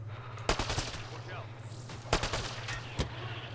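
Gunfire in Mass Effect, sharp loud shots ringing out at uneven intervals over a steady low mechanical hum, with brief bursts between.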